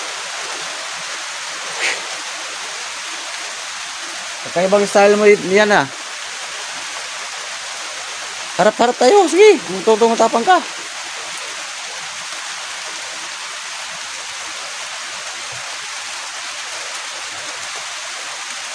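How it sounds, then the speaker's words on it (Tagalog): Rain falls steadily near a hut in a rural outdoor setting, making an even, continuous hiss throughout, while someone talks briefly in two short stretches over it. "May ulan guys oh."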